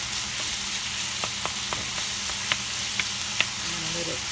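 Chicken and vermicelli fideo frying in a pan, a steady close sizzle with a few sharp utensil taps and scrapes against the pan.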